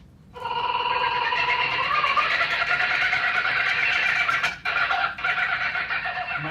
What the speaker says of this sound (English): Kookaburra sounds like this.